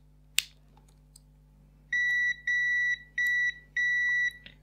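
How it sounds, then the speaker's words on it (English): A multimeter beeps during a continuity test on a BaByliss 3Q hair dryer switch: four steady, close tones a fraction of a second each, evenly spaced after a sharp click, over faint low hum. "I can just test with my multimeter on these points at the back."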